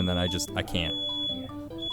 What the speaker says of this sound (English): That's the fire alarm.